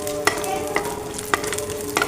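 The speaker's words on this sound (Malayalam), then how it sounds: "ഇത് ചട്ടിയിലിട്ട് നമുക്കൊന്ന് മൂപ്പിച്ചെടുക്കേണ്ടതുണ്ട്" Pistachios and almonds roast in ghee in a pan, a steady sizzle punctuated by about four sharp spatula scrapes at roughly even intervals.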